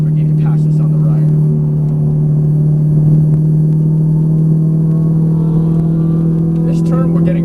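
A Ferrari 458 Italia heard from inside on a race track, its engine a loud, steady droning hum that holds constant throughout, with a person talking over it.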